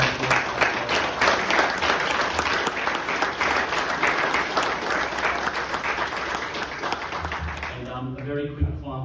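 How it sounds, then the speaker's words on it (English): Sustained applause from an audience at the Australasian Auctioneering Championship, dense and steady for most of the clip before fading near the end as a voice begins to speak. "So a bit of a round of applause."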